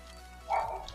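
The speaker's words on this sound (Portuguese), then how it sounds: "Desculpa o latir dos cachorros, pessoal." Household dogs let out one short bark partway through, somewhat muffled against a steady background hum, with nobody speaking.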